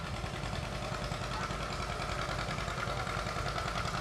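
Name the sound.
1956 John Deere 520 tractor engine idling in parade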